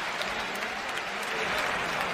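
A boxing crowd in Bilbao gives a steady, dense ovation of applause for boxer Luis Solís, continuous and loud throughout.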